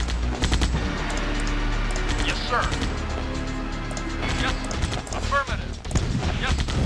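Buggies open fire in the 1995 Command & Conquer game, with dense, continuous machine-gun bursts and crackling impacts filling the whole stretch.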